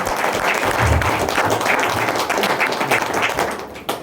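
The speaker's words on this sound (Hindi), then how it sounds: "जोरदार ताली सर" A roomful of people at a training seminar give loud, dense applause, a steady roar of clapping that tapers slightly near the end.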